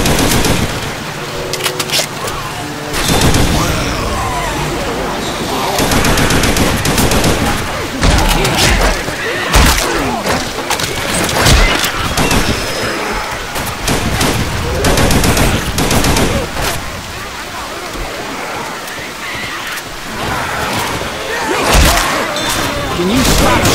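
Rapid automatic gunfire and heavy booms fill a hectic Left 4 Dead 2 firefight, loud and nearly continuous, with players talking over the shooting.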